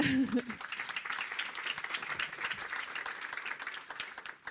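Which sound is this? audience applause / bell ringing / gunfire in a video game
audience applause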